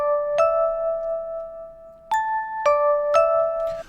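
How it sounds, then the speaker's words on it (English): A layered octave chime built from two stacked recordings, lower half under higher, rings out as a few clear bell-like strikes, each sustaining and overlapping the last, fairly close with no talking. "I can get this kind of cool layered octave effect."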